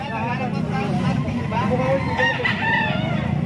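A ten-month-old Sweater Dome gamefowl rooster crows in a farm yard, its drawn-out crow rising above steady background noise and someone talking nearby.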